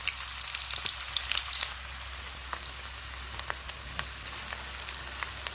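Oil heats in a karahi with a steady crackling sizzle, louder and busier for the first couple of seconds and then settling into a softer, even hiss; nobody speaks.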